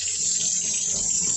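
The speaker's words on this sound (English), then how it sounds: "Okay, adding more water." Tap water running into a Temu washing machine, a steady close gushing stream filling the tub without a break.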